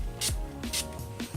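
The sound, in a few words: setting spray sprayed onto makeup brush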